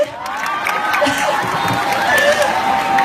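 Pageant audience at a gay beauty contest clapping, whooping and cheering, a lively crowd roar with shouts rising and falling over scattered applause, voices audible in the mix.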